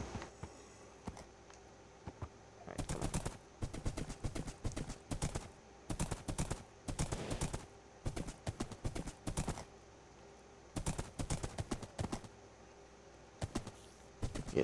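Horse hooves clop in the Minecraft video game, sounding in repeated bursts of quick steps with short pauses between them, fairly close and clear with no talking.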